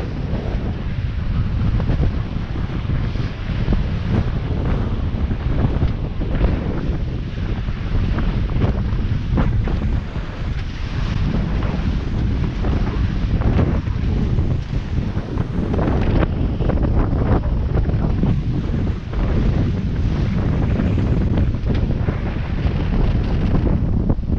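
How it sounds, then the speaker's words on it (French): Strong, steady wind of 20 to 22 knots roars across the microphone on a sailboat crossing the Mediterranean from Calvi to Bandol, with rushing water and wave noise underneath, loud and continuous throughout. "Là, il y a 22 nœuds de vent, entre 20 et 22 nœuds de vent."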